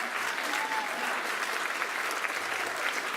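Crowd at a political campaign speech breaking into sustained applause, a dense, even roar of clapping from many people that holds steady for the whole stretch without a clear voice over it.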